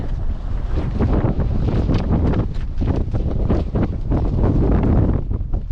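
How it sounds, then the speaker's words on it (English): Strong wind on Mount Moosilauke at 4,800 ft in fall buffets the microphone in a steady, roaring rumble with gusty bursts throughout, loud and close, with no voices. "It's windy."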